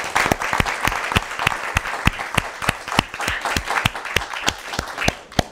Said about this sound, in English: maybe we can just give them a round of applause.